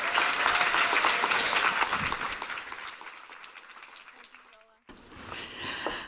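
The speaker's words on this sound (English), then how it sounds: "Big hand of applause for Jen McClay." An audience at a veterinary conference on canine atopic dermatitis breaks into loud applause for a speaker, the clapping fading gradually, then briefly cutting out before resuming more softly.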